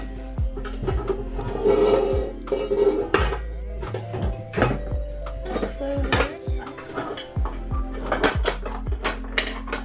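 Pots, pans and lids clank and clatter as someone rummages through a kitchen cupboard, with metallic knocks and scrapes close by, some drawer or cupboard sounds, and a person talking over parts of it.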